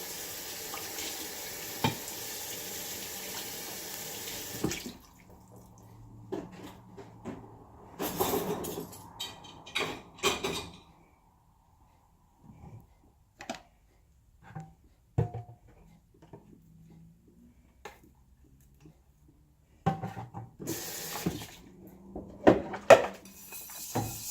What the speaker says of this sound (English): I will do regular dishes